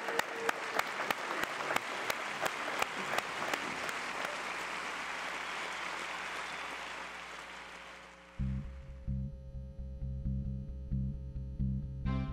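Applause from a studio audience for a female singer on a Mexican comedy-variety TV show, steady dense clapping for about eight seconds before it gives way to loud, rhythmic music.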